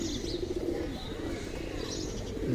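Pigeons coo steadily in a loft where paired birds are mating, a dense low warbling chorus that continues throughout with a few faint chirps and wing rustles on top.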